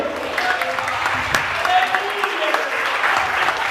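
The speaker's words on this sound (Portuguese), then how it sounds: "Eu agradeço a oportunidade das palmas para você." A church youth congress congregation applauds steadily with dense, even clapping, and some voices and scattered sharp claps rise above it.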